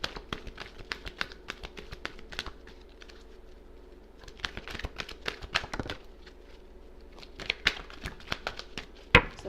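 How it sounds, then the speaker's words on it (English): Scattered crisp taps and riffling bursts come in short clusters at close range, like cards being shuffled and handled on a table, with no talking. "Let's do one more shuffle."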